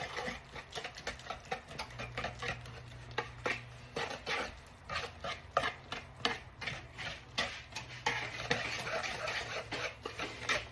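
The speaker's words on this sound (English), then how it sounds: "We're going to give this a good mix." Cornbread batter with milk and home-canned corn is stirred in a bowl, producing a quiet, irregular series of spoon taps and clicks, some in quick rhythmic runs, with no one speaking.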